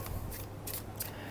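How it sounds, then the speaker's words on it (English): Tarot cards are shuffled in quick, crisp riffles, a few short papery bursts close by in a quiet room with a low steady hum beneath. "Okay, I'm gonna shuffle these cards."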